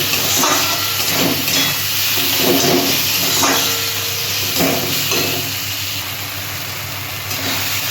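Spices such as turmeric, chili and cumin powder sauté in hot oil for a jackfruit curry, giving a loud continuous hissing sizzle with occasional soft stirring scrapes.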